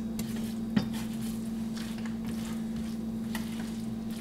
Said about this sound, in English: I just continuously scrape up all these little